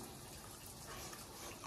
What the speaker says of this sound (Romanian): Cu apă rece.